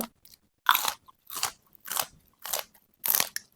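Crunchy chewing of small sea snails (nail-shaped shellfish) eaten with spicy papaya salad, rice noodles and fresh morning glory: five distinct crisp bites in a steady rhythm, close and fairly loud, with quiet gaps between, no talk.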